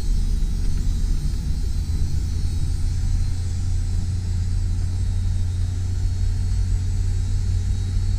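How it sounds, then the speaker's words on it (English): Motorized convertible top of a 2014 Chevrolet Camaro retracting, a steady low mechanical hum and rumble that holds evenly throughout with no voices. "Your top is going to come all the way down for you."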